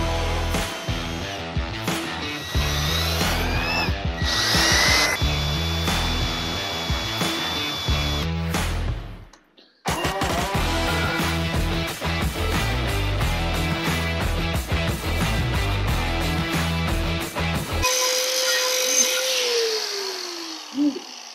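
A power tool grinds and cleans metal surfaces on a stock G-body transmission crossmember before welding, running loud and steady in long stretches with a brief pause and a spin-down near the end.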